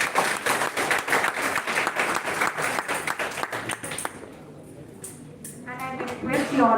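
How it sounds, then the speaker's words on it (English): Audience clapping at a college oratory contest group discussion, steady and fairly loud for about four seconds, then fading away as voices and a tonal sound rise near the end. "Give a big round of applause for the discussion."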